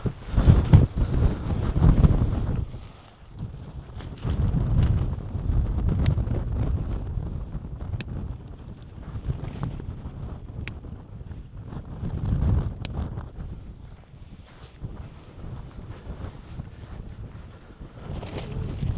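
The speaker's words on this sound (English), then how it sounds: "So already you can see it's going to get a bit of wind here." Wind gusts buffet a four-season tent pitched outdoors, a loud rumbling roar that swells and eases in waves, with a few sharp flaps of fabric cutting through.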